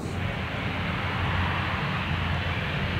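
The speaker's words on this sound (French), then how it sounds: "un avion arrive de Sydney au Brisbane" A propeller airplane flying in from Sydney to Lord Howe Island, its engine a steady broadband roar that holds loud and even throughout, with no voices.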